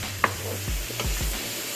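Chili bolognese sizzles in a frying pan while a utensil stirs it, with a few distinct scraping strokes over steady frying hiss, close and clear.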